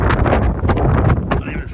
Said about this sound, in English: Whoa, that's how windy it is.